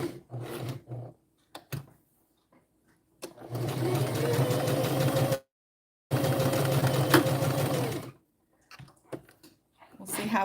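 Sewing machine stitching small dresses, two close bursts of rapid mechanical whirring of about two seconds each, separated by a short pause, with a few brief clicks and starts around them.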